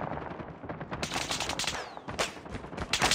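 A sentry gun in the video game Steel Force One fires sustained automatic bursts, dense and loud, with rapid shots layered over battle noise and no speech.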